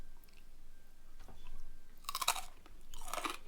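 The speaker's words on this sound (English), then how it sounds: "That crunch is insanely perfect." Crispy air-fried Chinese roast pork belly skin being bitten and chewed up close, two sharp crackling crunch bursts in an otherwise quiet moment.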